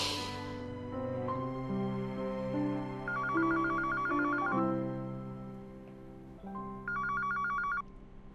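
A telephone rings in repeated electronic bursts, each with a bright trilling tone over a steady melodic ringtone pattern, clear and fairly close with no talk over it.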